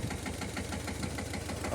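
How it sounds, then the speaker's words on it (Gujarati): A tractor engine chugging on a farm, a steady mid-low knocking putter with an even rhythm, moderately close and alone without talk. "આ ટ્રેક્ટર આયલું આવે છે"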